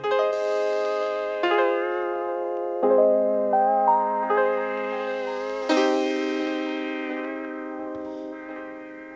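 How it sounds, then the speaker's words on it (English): Music run through Serato Hex's Afternoon Study lo-fi preset: sustained, warm chords shift roughly every second and a half, each change trailing an echoing tail, with no voices present. "I've just used this preset which is called Afternoon Study, it's in the Lo-Fi category"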